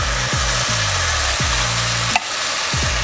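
A can of drained corn goes into a pan already sizzling with black beans and their juice. A steady hiss carries on, with a short clatter as the corn goes in midway.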